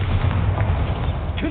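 A booming spell blast from Hogwarts Legacy, a single dense low rumble filling the short span, fairly loud and steady, with a brief higher whoosh near the end.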